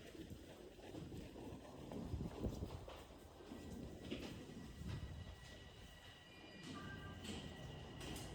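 An underground rail train in Toronto runs with a steady broadband rumble and rushing noise, continuous and fairly loud throughout, with faint squeals and hiss above, no talk.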